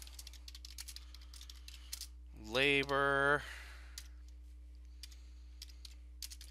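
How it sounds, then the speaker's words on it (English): Slow typing on a computer keyboard, light scattered key clicks at an irregular pace, faint and close, briefly interrupted by a short spoken word. "Forgive my slow typing"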